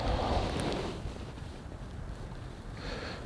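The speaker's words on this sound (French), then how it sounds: "on a un vent de côté là" A crosswind buffets the microphone at a winter feeder fishing spot, a soft, faint rushing gust that swells at the start and again near the end.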